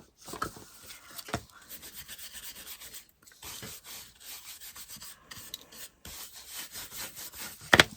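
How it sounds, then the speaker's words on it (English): Clear wax is rubbed onto a piece of wooden furniture with a cloth or brush, giving rapid repeated scrubbing strokes in a steady back-and-forth rhythm, close and fairly faint, with a few short pauses and a louder knock near the end. "And now I am going to put a coat of wax on this, clear wax, and then go around the edges with some"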